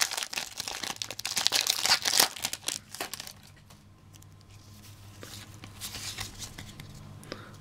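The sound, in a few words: tearing open a Pokemon card booster pack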